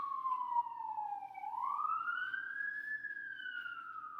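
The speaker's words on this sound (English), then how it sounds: "I don't know if you can hear the siren or not, but it's going off" An outdoor siren wails faintly in the distance, its pitch sliding down then rising again in a slow sweep, heard alone.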